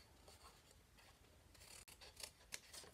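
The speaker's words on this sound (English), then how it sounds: "Just cut up the side." Scissors cut up the side of a K-Cup bag in quiet, close snips and rustles. A few sharper crisp cuts come near the end.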